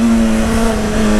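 A Honda CBR600 motorcycle engine holds a loud, steady high-rev drone for a brief moment, close by, with no voices.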